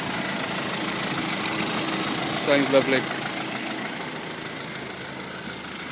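An Isuzu Bighorn Irmscher engine idles with a steady, even low rumble throughout, while a person briefly speaks partway through.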